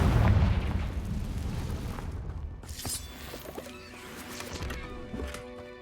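A Confringo blasting spell in Hogwarts Legacy erupts in a loud, rumbling boom with heavy low-end crackle, trailing off into scattered debris pops and lingering ringing tones.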